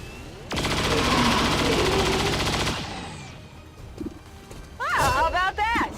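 Heavy rapid gunfire from the XCOM 2 combat, a loud sustained burst lasting a couple of seconds followed by quieter clatter and another short volley near the end.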